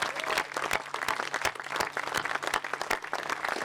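Audience applause at a National Peace Corps commemoration event, a moderately sized crowd clapping with distinct, fairly close individual claps and a soft background tone.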